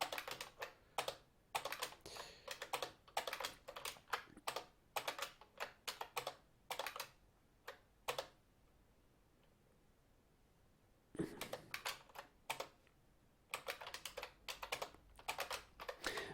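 Typing on a computer keyboard, bursts of quick keystroke clicks in uneven runs, close and fairly quiet, with a pause of silence in the middle before the typing resumes.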